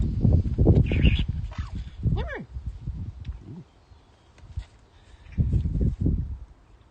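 A pet bird squawks and calls in bursts close by, harsh broken cries spread across several seconds, with a person speaking to it in between.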